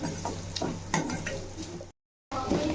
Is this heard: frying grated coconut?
yes